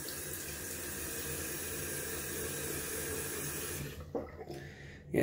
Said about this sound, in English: Adding some cold water to the face.